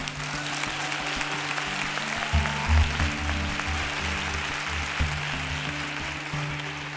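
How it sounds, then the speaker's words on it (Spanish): Studio audience at a televised talent show semifinal clapping in a steady, sustained burst of applause, dense and fairly loud throughout, with music playing underneath. "este fuerte aplauso para Dani."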